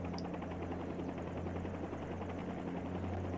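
Helicopter hovering low at about ten feet during a training lesson, a steady droning rotor and engine hum with rhythmic blade pulsing, continuous and even from inside the cabin.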